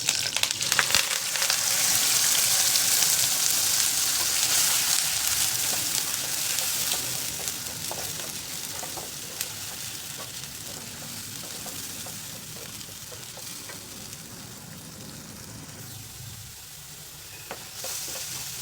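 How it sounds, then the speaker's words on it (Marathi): Ginger garlic paste hisses in oil in a kadhai alongside onions, cumin seeds and curry leaves, a loud, dense sizzle that slowly settles to a softer fry with occasional stirring scrapes. "आलं लसूण पेस्ट पण छान परतली"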